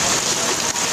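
Heavy rain pours down on a street in Congo-Brazzaville as a dense, steady hiss, loud and close, with no voices.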